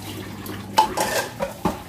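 Dirty dishes, pots and pans clank in a home kitchen sink pile, with a few sharp metallic clatters and knocks spaced over a quiet background.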